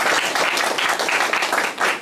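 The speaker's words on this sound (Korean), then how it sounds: "다시 한번 큰 박수 부탁드리겠습니다." Audience applause at the close of a Korean agricultural-sector talk concert, a steady continuous wash of clapping filling the whole moment at moderate loudness.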